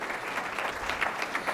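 An audience at the 2023 USA Gymnastics Hall of Fame Ceremony claps steadily for new sponsors, a dense, moderately loud patter of many hands with no voices over it.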